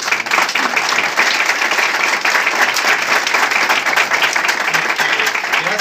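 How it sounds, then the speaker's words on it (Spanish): An audience at a civic gathering in Alausí gives a steady round of applause for the town mayor, dense clapping sustained for several seconds. "esto sí se merece un aplauso para nuestro señor alcalde"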